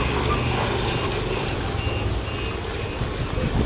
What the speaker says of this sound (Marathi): आज रविवार असताना सुद्धा नगरपालिका कचरा उचलायची गाडी आली.